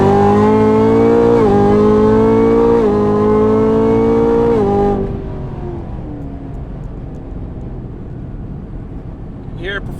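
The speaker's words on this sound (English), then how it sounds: "I'm gonna give it just a little bit of gas." A 2017+ Chevrolet Camaro ZL1 Stage 4 in track mode revs loudly with a rising, stepped engine tone for about five seconds, then drops to a low idle rumble as the revs fall away.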